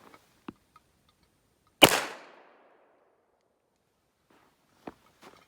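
A Nambu Type 14 pistol fires a single loud, sharp shot that rings out and decays over about half a second, with faint mechanical clicks and handling noises before and after in an otherwise quiet setting.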